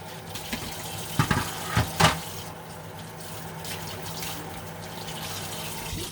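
Air purifier parts rinsed under running tap water, with a steady faint trickle and a few louder splashes near the start, then a quieter continuous flow.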